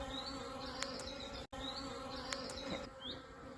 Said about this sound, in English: the bees have just come out to greet me a little bit